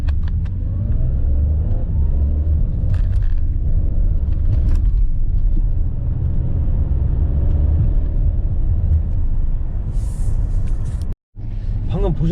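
A 2021 Audi A7 accelerates hard, its engine rumbling loudly and steadily as the S tronic 7-speed gearbox shifts. The drone ends in a brief cut near the end, and a voice talks faintly underneath.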